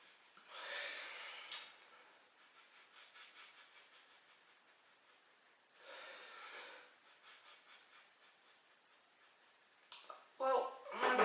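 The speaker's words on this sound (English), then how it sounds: "Let's have a sniff." Someone takes a few slow sniffs over a glass of Hobgoblin Ruby beer, soft breathy intakes close to the microphone, separated by quiet gaps, with a louder burst of noise at the end.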